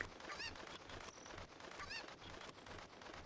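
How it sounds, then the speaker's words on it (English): Cucco chicken clucks from Zelda: Ocarina of Time, a few short squawking calls over steady game background sound, at moderate level with no talk. "Just gonna grab this chicken."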